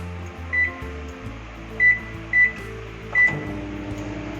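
Microwave oven running on high while cooking mutton korma, a steady low mechanical hum with a fan whir, interrupted by several short clunks and tonal blips, close and fairly loud with no talking.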